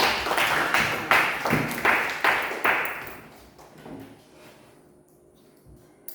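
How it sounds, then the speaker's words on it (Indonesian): Classmates clap for a pupil who has just recited Surah Al-Hujurat, a short burst of several quick, close claps that fade to near quiet after about three seconds. "Ayo berikan aplaus untuk teman saudara"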